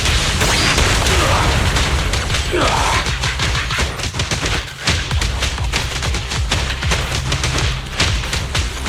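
Gunfire in the Zenless Zone Zero video game, a dense run of sharp repeated shots and thuds layered over loud game music and effects, with voices calling out amid the action.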